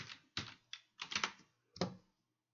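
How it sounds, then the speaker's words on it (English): Code is typed on a computer keyboard in a few close, crisp keystrokes and short clusters over about two seconds, quiet overall with no talking. "And then we're going to type that in here."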